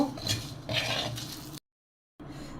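Panch phoron and whole spices fry in a pan for achari dal, giving a steady sizzling crackle with scraping stirs, then a short silence before the sizzle returns.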